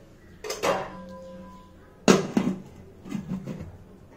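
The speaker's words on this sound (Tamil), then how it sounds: "இந்த மாதிரி இட்லி பாத்திரத்தில் உள்ளே வச்சுட்டு மூடி வச்சிட போகிறோம்." A metal idli steamer pot goes inside a larger vessel and its lid closes, giving two close metallic clanks a couple of seconds apart, each followed by short rattling taps.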